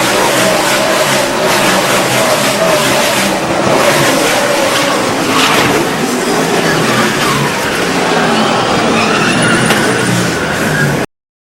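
NASCAR race cars sprint out of a corner at Watkins Glen: a loud, continuous engine roar with tire scrubbing, steady and close throughout, with no talk.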